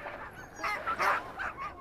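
A sled dog gives several short barks and yelps in a quick irregular burst, moderately loud against a quiet background.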